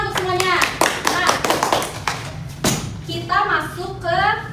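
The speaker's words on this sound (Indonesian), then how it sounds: "Tepuk tangan untuk semuanya." A primary school class claps in a quick rhythmic burst of hand claps, close and loud, with a teacher and children talking before and after.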